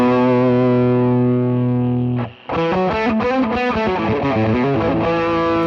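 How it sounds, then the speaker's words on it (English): Cornerstone NERO fuzz pedal turned all the way up on electric guitar, giving a loud, saturated, distortion-like tone: a sustained chord rings, breaks off briefly, then a busy run of picked notes and chords continues at full volume. "it kind of sounds more like a distortion, I guess, or a heavily overdriven pedal than a fuzz"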